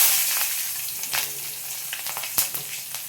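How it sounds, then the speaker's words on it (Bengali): Black cumin seeds and two green chilies crackle and sizzle in hot oil with turmeric and coriander powder, a soft, close frying hiss punctuated by sharp pops. "এবার দিয়ে দেবো কালো জিরে ফরম দিয়ে দেবো দুটো কাঁচা লঙ্কা"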